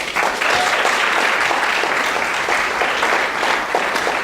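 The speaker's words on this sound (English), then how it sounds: "So please give a round of applause for Meg Jones." Sustained applause from a seated audience at a talk event, a dense steady patter of clapping hands that fills the room and holds at an even level throughout, with no speech over it.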